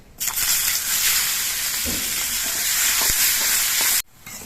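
Sliced onions drop into hot oil with bay leaves and whole cumin, bursting into a loud, steady sizzle with a few stirring clunks, then cutting off abruptly near the end.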